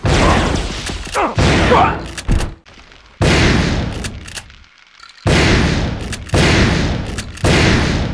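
Shotguns fire in a first-person shooter, heavy booming blasts arriving in loud bursts separated by brief quiet gaps, each blast trailing off with a rumbling decay.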